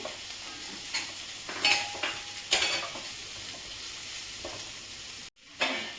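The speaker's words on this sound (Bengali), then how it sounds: "প্রথমে আমি আলুটাকে মেলাচ্ছি এর সঙ্গে।" Potatoes and peas being stirred and fried in a pan, a continuous sizzle broken by several louder scraping stirs and a brief sudden drop near the end.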